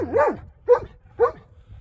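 Three short, loud barks from a nearby dog during snow shoveling outdoors: one longer rising bark followed by two quicker ones, evenly spaced, with no talking.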